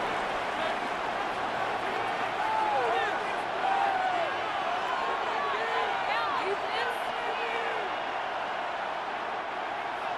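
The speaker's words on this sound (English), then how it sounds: "Crowd noise rises." Steady roar of a large stadium crowd in Madden NFL 26 during a simulated 49ers vs. Bears NFC Championship, a dense wash of cheering and chatter that swells slightly midway, with an announcer-like voice faintly woven in.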